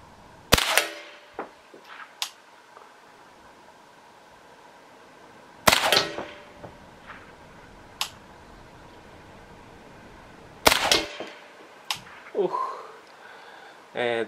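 Three sharp gunshots from a Ruger semi-automatic firing 36-grain hollow point rounds ring out at roughly five-second intervals, each loud and close with a brief echo, separated by quiet outdoor background and small handling noises.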